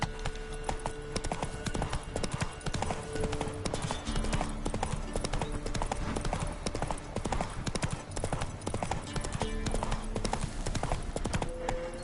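Roach, Geralt's horse in The Witcher 3, trots with a steady, continuous clip-clop of hooves running throughout, layered over busy game music and ambience.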